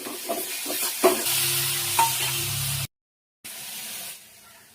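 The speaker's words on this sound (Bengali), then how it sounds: "এবার মশলাটা ভালো করে ভেজে নেব।" Salt, turmeric and ground cumin fry in a pan for a lote (Bombay duck) fish dish, giving a steady close sizzle with stirring scrapes, then a brief silent break before the sizzle resumes more quietly.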